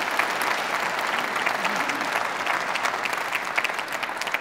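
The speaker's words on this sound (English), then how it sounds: "Another big round of applause," A lecture audience gives a big round of applause to the speaker and panel, a loud, dense and continuous clapping that fills the whole stretch without talk over it.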